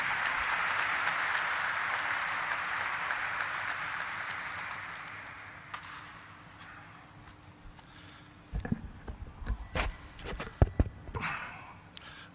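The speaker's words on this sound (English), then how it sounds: "Can we have a huge round of applause for him?" Sustained applause from an audience at a corporate ceremony with NSE and SEBI officials, a dense wash of clapping that gradually fades after about six seconds, followed by a few scattered knocks and thumps.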